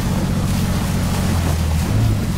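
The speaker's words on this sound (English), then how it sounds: "In the water, physics are good in this game as well. As you can see, we're making a bunch of waves." In the SpinTires video game, a truck drives through water and churns up waves, producing a loud, continuous low rumble of engine and splashing water with no speech.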